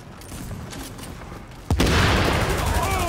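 Combat in The Division video game: steady gunfire in the background, then a sudden loud grenade blast followed by dense, sustained rumbling and shooting.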